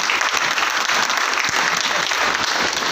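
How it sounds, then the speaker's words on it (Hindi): An audience at a poetry gathering (kavi sammelan) in Raj Nagar Extension, Ghaziabad gives the organizers loud, dense, continuous applause that fills the whole stretch without a break. "मैं चाहता हूं आयोजकों के लिए जोरदार एक बार तालियां बजनी चाहिए।"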